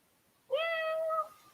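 A single clear cat meow, close and loud, rising and holding for under a second against a quiet room.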